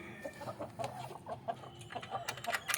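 Country chickens cluck around an opened coop in the morning, a steady overlapping chatter of soft clucks and calls from several birds at moderate distance, with no speech over it.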